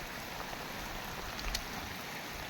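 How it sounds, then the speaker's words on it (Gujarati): Steady rainfall pattering on surfaces outdoors in a village setting, a dense continuous hiss with a few louder drips, close by and without voices. "જોઈ શકો છો વરસાદ ચાલુ થઈ ગયો છે."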